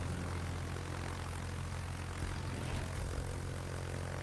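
Propeller aircraft from a carrier fly in a naval video game, a steady loud engine drone filling the whole stretch without pause.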